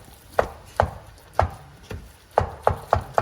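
A utensil chops and stirs food in a pan while making huevos rancheros, giving sharp irregular knocks against the pan about every half second, fairly close and with no talk.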